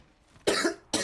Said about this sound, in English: I don't know where this cough is coming from.